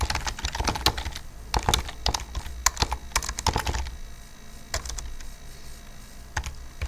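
Fingers type a message on a computer keyboard in a quick run of clicky keystrokes, then a pause and a few scattered taps, close and fairly clear with no speech.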